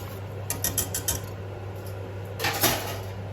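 A spoon clinks against a bowl while lime juice is stirred into a mixture, two short bursts of close, bright clinking and scraping with a quiet pause between, no talking.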